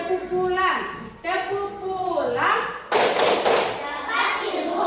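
Schoolchildren in an Indonesian classroom do a going-home clap chant, chanting loudly in unison while clapping and thumping rhythmically. Their voices dominate over the claps, with a burst of louder group clapping near the end.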